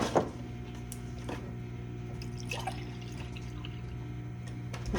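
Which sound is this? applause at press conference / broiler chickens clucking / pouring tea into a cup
pouring tea into a cup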